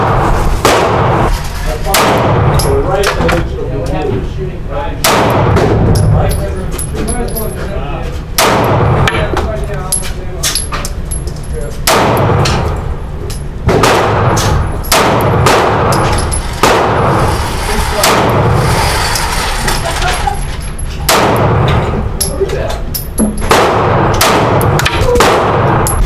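Springfield Armory Hellcat pistol fired on an outdoor range, a steady string of sharp, loud reports spaced a second or two apart across the whole stretch, with someone talking briefly between shots.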